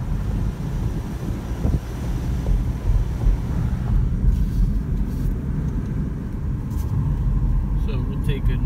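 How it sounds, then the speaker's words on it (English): Cars passing on a small-town road early in the morning, a steady low rumble with wind buffeting the microphone and someone talking over it. "Why does there have to be cars coming?"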